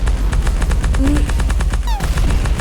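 Rapid machine gun fire in a video game, loud and continuous bursts for nearly three seconds, with a brief whistling tone near the end.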